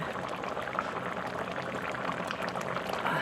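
Chicken and pumpkin curry simmers in a pot, giving a continuous close bubbling hiss at an even, moderate level.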